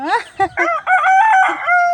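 A rooster crows loudly and close, a drawn-out call with wavering pitch, broken by brief clucking from chickens.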